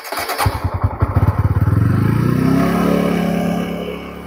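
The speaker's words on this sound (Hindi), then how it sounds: "तो इंजन मेरा अभी चल रहा है" A TVS Apache 160 4V carbureted motorcycle engine cold-starting with the choke lever on: a brief cranking clatter quickly catches into a loud, close, steady idle that settles and slightly fades.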